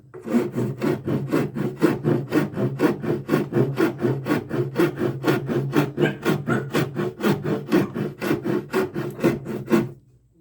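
An old-fashioned hand rasp files wood in a fast, even series of about thirty rough scraping strokes, loud and close, stopping abruptly at the end.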